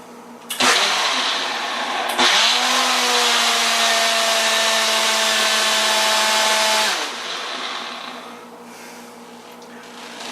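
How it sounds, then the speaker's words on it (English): A drink mixer whirs loudly and steadily as it blends leftover calf kidney with its fat, its motor pitch settling into a strong hum for several seconds before winding down into softer running. "I put the leftover in the pot in a drink mixer, like I said before, and mix it"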